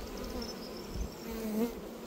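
Honey bees buzz steadily at an open hive in early summer, a continuous close swarm hum with individual bees droning past, and no one speaking.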